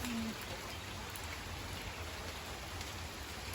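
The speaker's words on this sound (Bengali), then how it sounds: "আজকে হচ্ছে প্রচণ্ড বৃষ্টি অনেক বৃষ্টি" Steady heavy rain hisses evenly throughout during several days of storms in Brahmanbaria, a dense wash of falling drops with no voices.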